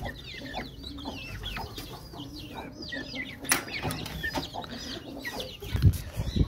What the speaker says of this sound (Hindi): अब बारी है हमारी गोल्डन मुर्गी की, चलो तुम भी खाओ